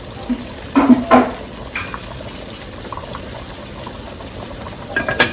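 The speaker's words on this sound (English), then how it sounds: "That's boiling out of control." Water bubbling in a pot on a steady low simmer, with a few sharp clinks of metal and a brief louder bubbling burst.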